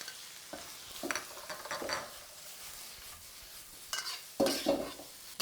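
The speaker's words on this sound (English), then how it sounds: "Heat up your tofu. Spread it out in your wok. Let it char a tiny bit." Tofu fries with garlic in a hot wok, bursts of sizzle rising and falling as a spatula stirs and scrapes the metal, with a louder toss near the end.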